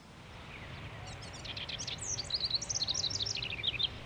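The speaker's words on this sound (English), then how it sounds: "A house wren singing." A house wren sings a rapid, bubbling series of high trills and chatters that grows busier toward the end, heard clearly over steady outdoor background noise with no voices.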